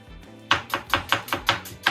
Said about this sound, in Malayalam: ആവശ്യമുള്ള സവാള കട്ട് ചെയ്തുകൊണ്ടിരിക്കുകയാണ്